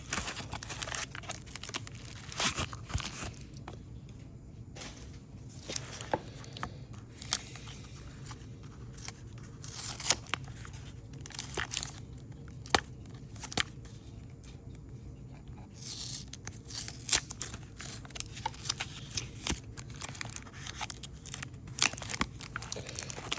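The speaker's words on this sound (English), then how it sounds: "Love getting to where I can rip stuff." Mail packaging is ripped open by hand: a long run of crinkling, tearing paper and plastic with sharp crackles and rips spread across the whole stretch, close up, with no talking.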